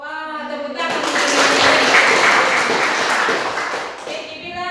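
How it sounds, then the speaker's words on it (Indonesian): A class of pupils at a Catholic school in Merauke breaks into clapping, a dense wash of hands that swells for several seconds and then tapers, with speech briefly before and after. "Wah, tepuk tangan."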